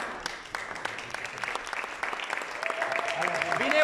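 An audience at a humanitarian charity concert claps continuously, with dense applause building louder toward the end while a voice speaks over it.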